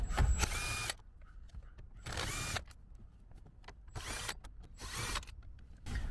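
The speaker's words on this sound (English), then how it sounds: "You could use a power tool like this" A power tool whirs in several short, loud bursts separated by brief pauses, like an impact driver spinning bolts out of a Lexus RC.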